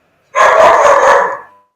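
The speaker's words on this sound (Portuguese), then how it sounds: "Nossa, tem um cachorro aí." A dog gives one sustained, loud bark-howl close by, about a second long, with rapid pulsing in the tone and nothing else audible around it.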